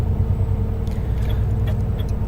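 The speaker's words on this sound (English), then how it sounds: "I might as well let this long queue of cars past" Steady, fairly loud road rumble of a long queue of cars rolling past close by, with no clear gaps and no talking.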